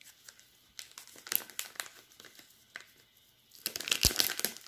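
A package holding a new grooming glove is torn open, with sharp bursts of crinkling plastic and tearing, quiet between handling bursts and busier toward the end, close by and without talk.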